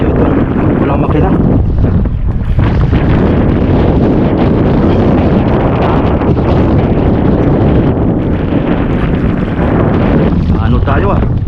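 Strong wind roaring across an engineless boat at sea, with heavy, continuous buffeting on the microphone throughout and a voice partly buried beneath the gusts.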